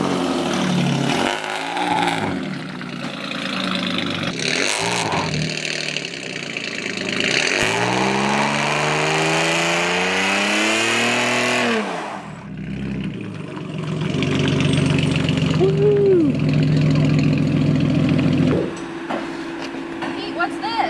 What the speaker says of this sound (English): Do you think it will do a burnout?